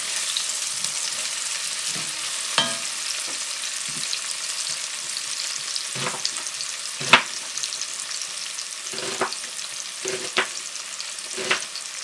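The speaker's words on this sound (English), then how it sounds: "I'm going to stir it until it's golden brown" Onions and a bay leaf frying in a pan, the steady sizzle broken by periodic scraping stir strokes, close and fairly clear with no talking.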